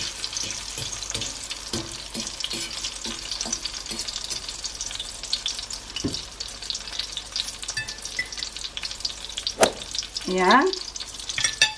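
Eggplant omelette (tortang talong) fries in a pan with a steady soft crackling sizzle, scattered utensil clicks and scrapes, and a brief louder clatter near the end, close and fairly quiet with one short spoken word.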